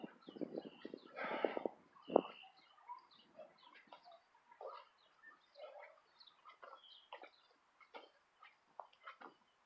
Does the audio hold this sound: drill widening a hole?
no